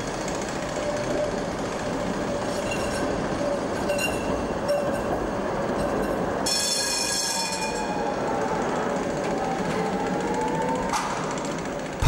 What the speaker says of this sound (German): rollen die Züge der Linie 6 Richtung Innenstadt